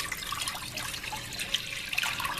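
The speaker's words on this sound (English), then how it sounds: "I will be adding 32 ounces of water" Water pours steadily into a slow cooker with red kidney beans, a close continuous splashing trickle with no speech.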